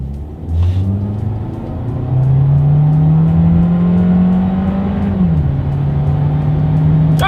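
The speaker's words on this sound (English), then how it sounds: "Let's do a quick little acceleration here in our 2020 Jetta" A 2020 Volkswagen Jetta accelerates hard along a straightaway, its engine droning loud and steady with pitch climbing through the rev range, dropping briefly at a gear change, then pulling on again.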